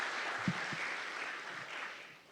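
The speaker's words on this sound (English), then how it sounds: "A round of applause to our honorees." Faint, distant applause from an athletics hall of fame ceremony audience honoring inductees, a soft continuous patter that fades slightly toward the end.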